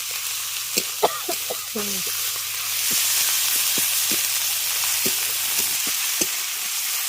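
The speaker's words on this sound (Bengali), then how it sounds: "এবার মশলাটাকে খুব ভালো করে কষিয়ে নেব" A paste of ginger, garlic and onion with dried chilli sizzles in a pan as it is sautéed, steady frying hiss punctuated by regular scraping clicks of a stirring spoon, with a brief voice early on.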